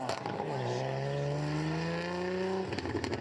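A Formula Drift car at Suzuka Twin Circuit in Japan, its engine running rough, holds a long droning, wavering note that climbs slowly before cutting off abruptly, loud and close.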